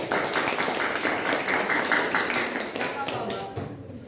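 A classroom of students claps together in a brisk, sustained round of applause lasting several seconds, fairly near and moderately loud, tapering off at the end.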